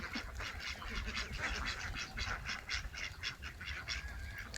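A flock of ducks on open pastureland quacks and honks steadily in a rapid, overlapping chorus, moderately distant, with faint background noise.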